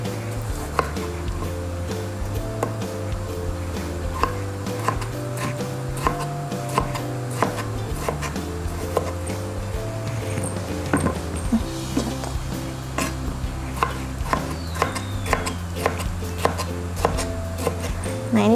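Rapid knife chops strike a cutting board as tomatoes are cut for a stir-fried green bean and egg dish, a steady close rhythm of crisp taps running throughout with a low hum underneath.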